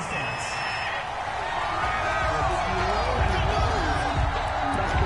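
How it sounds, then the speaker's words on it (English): A stadium crowd in the Madden 21 football video game reacts to a penalty flag on third down, a broad rising wash of boos and shouts with scattered whoops and thumps, under talk. "Well, the crowd doesn't like that."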